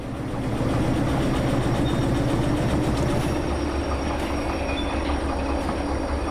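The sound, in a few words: train carriages being pushed in video game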